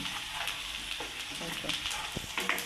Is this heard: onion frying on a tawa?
yes